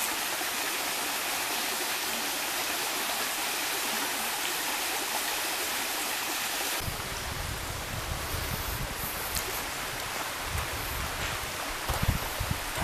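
The Rio Homem in Gerês, Portugal, rushes steadily over rocks, a dense continuous wash of water that grows fuller and closer partway through, with no voices.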